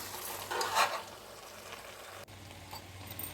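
Soft scraping and swishing of a utensil stirring rice in a pressure cooker, brief and quiet, with a faint clink near the end.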